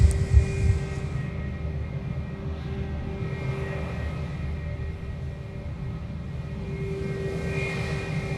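Jetstar Airbus A320 jet taxiing at Sydney Airport, a steady low engine rumble with a sustained tonal hum, moderately distant and unbroken throughout.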